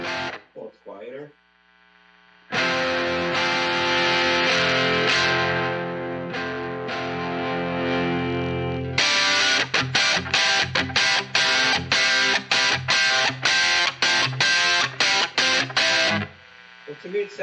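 Electric guitar through a JHS Pack Rat distortion pedal, with a sustained, buzzing distorted chord followed by a long run of tight, rhythmic palm-muted chugs, loud and close, with a bit of talk at the start.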